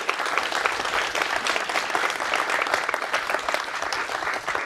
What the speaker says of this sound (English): Give another big round of applause for Greg.